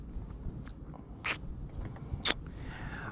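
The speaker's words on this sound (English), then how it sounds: "that Tootsie Pop is small enough I can probably crunch it now" A small Tootsie Pop lollipop is crunched close to an ASMR microphone, with two crisp bites of hard candy among quieter mouth and chewing sounds.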